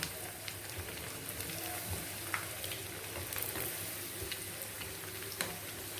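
Cassava vadai frying in hot oil, a steady low crackling sizzle with scattered small pops, moderate and continuous throughout, with no voices.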